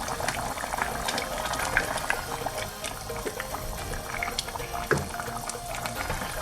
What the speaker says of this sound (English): I'm just going to add to finish off another half a cup of water